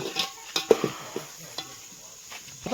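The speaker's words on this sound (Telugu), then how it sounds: "జస్ట్ గరిటితో తిప్పాలి శుభ్రంగా కలిసేలాగా" A ladle scrapes and knocks through country chicken curry in a pot, a few short, close stirring strokes with soft clinks over a faint background sizzle.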